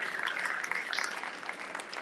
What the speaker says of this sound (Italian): stavolta un applauso particolare lo facciamo all'amico Enrico De Bona